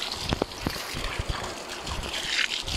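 Water from a natural spring flowing and trickling in a rural outdoor setting, a steady faint wash with small splashes and gurgles.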